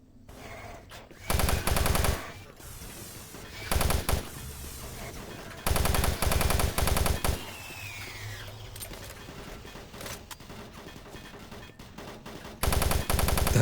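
Gunfire from the player's weapon in Doom 3, several loud sustained bursts of rapid automatic shots separated by quieter stretches of game ambience and mechanical noise.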